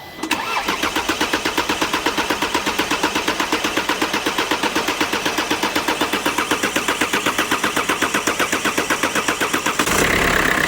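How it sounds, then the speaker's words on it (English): A Mercedes OM651 CDI diesel engine fires up for the first time after being worked on, settling into a loud, steady rapid clatter with an even rhythm close by, then changing pitch near the end. "So this is its first start up."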